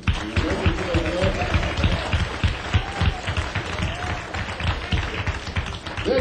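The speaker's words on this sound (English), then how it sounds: "Let's clap your hands for Lewis." A small blues-club audience at Club 47, Cambridge, in 1966 applauds in a lively, close, continuous patter of hand claps for about six seconds, with faint voices underneath.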